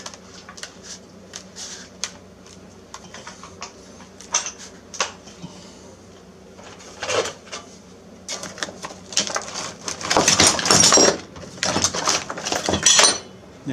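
Sheet metal is placed and bent in a metal brake, with bursts of close metallic clattering and rattling that grow denser and louder toward the end.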